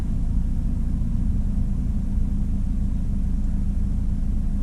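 Steady, unbroken road and engine rumble inside a courier's car driving around Kharkiv, constant in loudness throughout with no talking.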